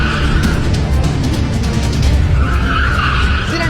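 A car brakes hard, its tires skidding in a loud, sustained screech with engine and road noise underneath, close and continuous for several seconds.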